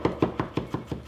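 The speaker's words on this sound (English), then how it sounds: "you'll need to mince either 3 medium-sized or 2 large garlic cloves" A knife mincing garlic cloves on a cutting board for a Parmesan cream sauce, six to seven even chops in a steady rhythm, close and clear with no talking.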